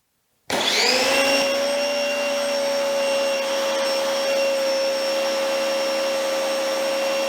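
Active VE52 electric pressure washer running with a 4.0 nozzle during a flow test, starting abruptly and holding a loud, steady whining motor hum with a sustained hiss of spray, close and without pause.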